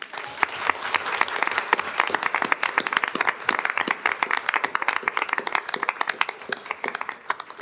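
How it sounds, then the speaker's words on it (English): An audience at a school board meeting gives brisk, dense applause of many hands clapping, fairly close and loud, holding steady throughout. "A quick round of applause."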